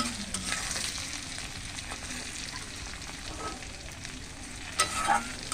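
Fish and shrimp fry together in a home kitchen pan with a steady, close hiss and sizzle throughout, plus light stirring scrapes and a brief louder burst of spattering near the end.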